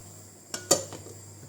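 Bowls made in China knocked and set down in a home kitchen while soup is prepared, two short ceramic clinks with a fainter knock after, close and alone.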